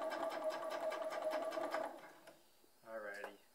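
A sewing machine runs a straight stitch on a long sleeve, a fast steady whirring hum for about two seconds, then it stops and a brief second burst follows.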